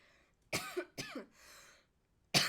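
A person coughs twice in quick succession, close up, followed by a short breathy exhale and another cough starting at the end.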